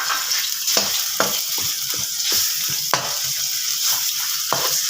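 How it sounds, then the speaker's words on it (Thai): Thai red curry paste with shrimp paste stir-fries in a hot pan for a spicy catfish dish, a steady loud sizzle broken by repeated scraping stirs of a utensil, with no talking. "ผัดให้หอมเลย"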